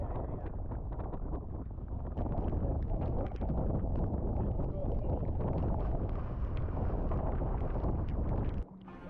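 Strong wind buffets the microphone on a dive boat at sea, a loud continuous roar that drops off sharply near the end.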